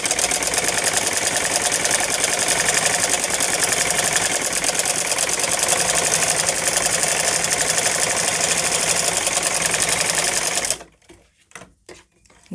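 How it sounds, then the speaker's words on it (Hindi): A sewing machine stitches an elastic frill sleeve, running loud, close and steady with a fast continuous mechanical whir for about eleven seconds, then stopping abruptly, leaving a few faint clicks and handling sounds. "अब निशान लगाने के बाद में अब हम इसके ऊपर सिलाई लगाएंगे"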